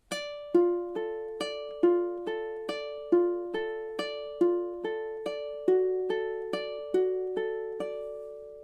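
Solo ukulele picks out measures 12 and 13 of The Last of Us main theme, a slow, even run of about fifteen clear plucked notes with ringing sustain, close and alone.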